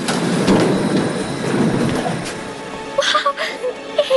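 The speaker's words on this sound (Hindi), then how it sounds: "ट्रेन।" An animated cartoon train rumbles past with a dense rolling roar that fades, followed by a few lighter clicks and sounds at the end.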